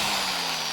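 Warrior brand angle grinder from Harbor Freight fitted with a clean and strip disk, running in a continuous high-pitched whine with a bright hiss, steady throughout the brief moment.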